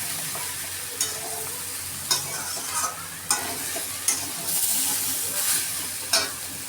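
Jackfruit seeds frying in a pan with a steady sizzle, while a utensil scrapes and stirs in sharp strokes about once a second, close and clear.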